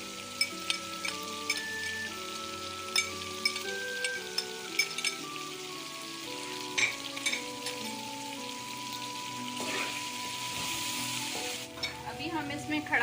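Green chillies and whole spices fry in hot oil for a chana matar pulao, giving a steady close sizzle with scattered pops and occasional stirring scrapes, no voices.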